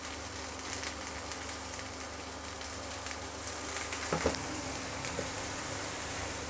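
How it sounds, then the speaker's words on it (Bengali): Onion and raw potato fry together in a pan with a faint, steady sizzle and occasional small crackles. "পেঁয়াজ আলু একসাথেই দেবো, কারণ এটা কাঁচা আলুটা সিদ্ধও হয়ে যাবে পেঁয়াজটা ভাজতে ভাজতে"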